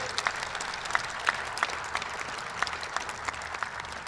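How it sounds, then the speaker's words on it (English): Outdoor crowd at a university athletics sports complex groundbreaking ceremony claps together, a sustained patter of many hands with a few sharper individual claps standing out, continuing steadily for about four seconds. "Big round of applause, please."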